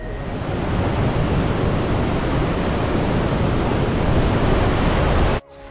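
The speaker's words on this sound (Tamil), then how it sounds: "ஸோ அதனால இந்த தண்ணியோட பேர் என்ன அப்படின்னா அமெரிக்கன் ராபிட்ஸ் அப்படின்னு சொல்லுவாங்க" Rushing water of the American Rapids on the Niagara River, a loud, steady broadband roar that continues unbroken before cutting off abruptly near the end.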